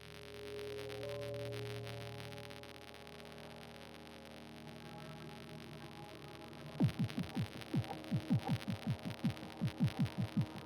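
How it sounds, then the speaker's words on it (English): Echoey mechanical or electric clicking starts after a stretch of low humming and continues as a fast, regular train of sharp clicks with reverberant tails, fairly loud and alone. "It's something like an echoey clicking."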